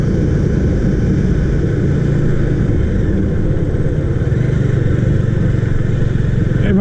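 A Bajaj Dominar 400 motorcycle rides along the road toward Kalimpong, its engine droning steadily and loudly with wind noise, and no breaks or shifts in pace.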